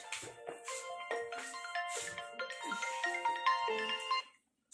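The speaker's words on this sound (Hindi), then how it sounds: "अरे मेरा फोन आ रहा है।" A phone ringtone plays a bright, repeating electronic melody up close, then cuts off into silence.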